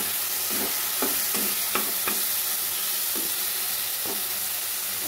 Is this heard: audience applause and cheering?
no